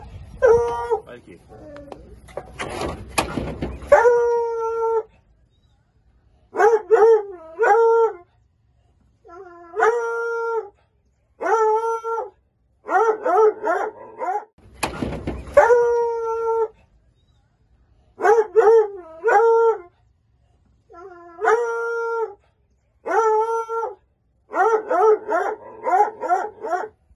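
Several rescued dogs howl and bark in repeated bursts separated by short pauses, loud and close, with harmonic wavering howls and a couple of noisy rustling stretches.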